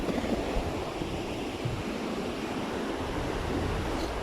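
Sea waves washing on a seashore, a continuous broad roar of surf with some wind noise on the microphone, steady and fairly close, with no talking.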